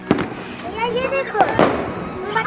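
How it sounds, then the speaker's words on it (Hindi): Firecrackers pop outdoors in strong wind during Eid celebrations, a few sharp cracks with one loud near bang standing out, while people talk excitedly over them. "अभी हम लोग पटाखे चलाने जा रहे हैं"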